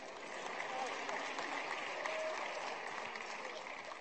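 A church congregation applauds during a Baptist worship service, with steady, dense clapping filling the room throughout, loud and continuous.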